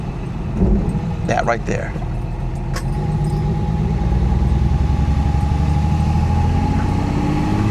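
A 1969 Mercedes 280SE runs steadily on the road, its engine drone rising slightly as it shifts, with brief talk from occupants over the continuous rumble.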